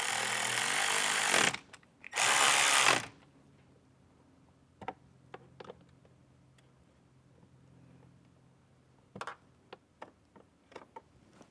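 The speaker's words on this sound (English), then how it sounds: "Now we can go ahead and start putting our screws back in over here" A power driver runs screws into a trim panel of a 2024 or later Jeep Wrangler JL or Gladiator JT. Two loud whirring bursts come near the start, followed by a long quiet stretch of faint ticks, clicks and light knocks from handling parts.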